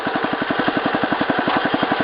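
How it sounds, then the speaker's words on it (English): Close and alone, the single-cylinder engine of a Wheel Horse 875 lawn tractor idles with a slow, regular thumping beat over a steady mechanical hum. "The engine is adjusted so it will run at idle"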